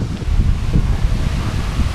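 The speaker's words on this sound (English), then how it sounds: "Super windy out. Holy, is it ever windy." Strong wind buffets the microphone with a steady, heavy roar and rustling gusts, close and loud throughout.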